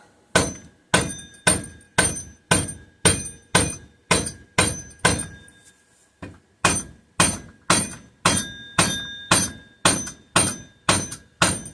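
A rubber mallet taps a cast aluminum part on a McCulloch 1-52 chainsaw, about twenty sharp, evenly spaced knocks in two runs separated by a brief pause, close and fairly loud with no talking.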